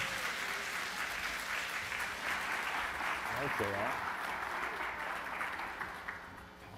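Warm audience applause at a Family Cafe event for a couple taking the stage, steady dense clapping throughout that starts to thin toward the end, with a short spoken thanks over it.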